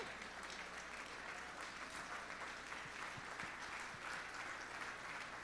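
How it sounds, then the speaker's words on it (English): A room full of charity cycling riders receives a round of applause at an evening recognition event, a steady wash of many hands clapping heard from some distance, fairly quiet. "We need to give a round of applause to all of you."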